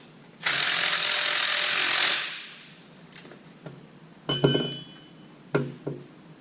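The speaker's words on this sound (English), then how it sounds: "So I'll actually go ahead and tighten the front first." A ratchet tightens a lock nut with washers on a power steering, alternator and belt tensioner bracket during an old Mercedes OM617 diesel engine conversion. A long loud burst of clicking is followed by several short, sharp metallic clicks and clinks.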